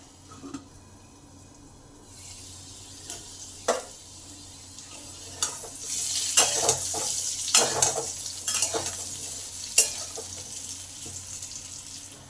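Potatoes fry in a pan; a low sizzle swells louder after a couple of seconds, broken by sharp clinks and scrapes of stirring and a few bursts of crackle.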